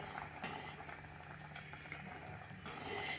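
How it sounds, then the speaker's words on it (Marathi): Poha kheer, a sweet milk pudding made with flattened rice, simmering in a pot: a steady low bubbling and hiss, fairly quiet and continuous, with a brief louder swell near the end. "पाच मिनटं खीर उकळूया"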